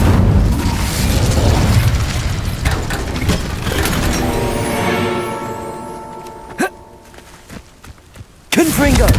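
An Incendio fire spell is cast in the Hogwarts Legacy video game, a loud, whooshing magical blast that rumbles and fades over several seconds before sharp impact pops follow.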